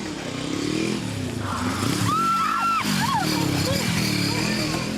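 A motorbike roars past close by, its engine note rising and falling over a busy street scene with people shouting nearby.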